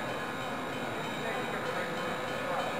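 A cartoon train rumbles along steadily in Busytown, a continuous mid-level rolling noise with no clear horn or whistle, running unbroken through the whole moment.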